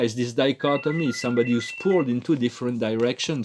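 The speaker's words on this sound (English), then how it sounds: "sorry about the phone, I can't answer it and I can stop it." A telephone rings indoors in the background, its faint steady tone sitting beneath continuous talking from a person speaking close up.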